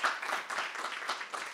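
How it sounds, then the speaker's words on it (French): An audience at a civil rescue and military medicine expo applauds speakers with a short, dense burst of clapping from many hands. "Vous pouvez les applaudir encore une fois"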